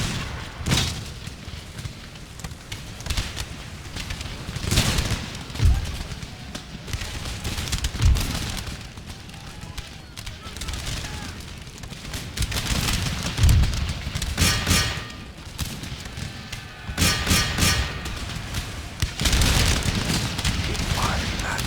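Mortar blasts and musket volleys crack out in a battle in Empire Total War, scattered booms and crackling salvos rising and falling at middle distance over a steady rumble, with a voice talking at times.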